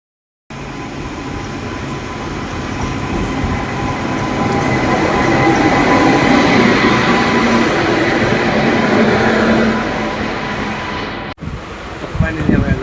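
A passenger train runs along the track with a steady, loud rumble and clatter of wheels, swelling through the middle before an abrupt cut and a brief noisy tail.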